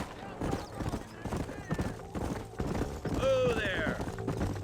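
In the Red Dead Redemption video game, steady clip-clopping horse hooves beat in a quick rhythm, and a short whinny rises over them midway, all set against busy game background sound.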